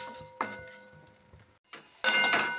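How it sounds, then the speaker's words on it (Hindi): Almonds lightly roasting in ghee in a pan for laddus, with a utensil stirring steadily: soft intermittent scrapes and faint clinks, a brief pause, then a louder burst of scraping and clatter at the end. "इसको भी हल्का हम भून लेते हैं, ये बिल्कुल भून जाएगा। इसको हमको बराबर चलाते रहना है।"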